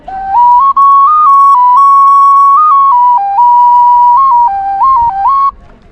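A frog-shaped Aztec clay whistle, bought near the Teotihuacan pyramids, blown loud and close in one sustained, shrill, pure tone that steps up and down in pitch for several seconds before stopping abruptly.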